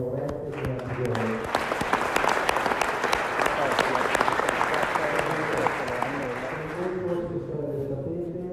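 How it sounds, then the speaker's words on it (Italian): Audience applause at a speech to sports club managers and coaches, a sustained roll of many hands clapping, with a voice talking underneath at the start and end. "Quindi un grosso applauso"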